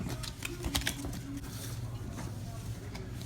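Onirim nightmare cards are shuffled by hand, giving a quick, papery flutter of small clicks and riffles, close and fairly soft, with some scattered sharper snaps.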